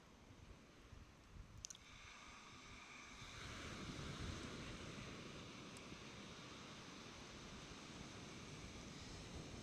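Ocean waves rolling in against rocks, a faint, low wash that swells after a few seconds into a steady surf roar, with some wind buffeting the microphone and a few small clicks early on.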